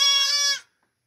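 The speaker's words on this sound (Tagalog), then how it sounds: "itong aking kambing na pupurgahin" A goat awaiting deworming in a worn, hole-ridden pen gives a single loud, nasal bleat, close by, that cuts off abruptly into silence.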